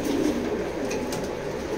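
Racer pigeons coo softly in a loft, low rounded calls repeating over a steady background, close and moderately loud.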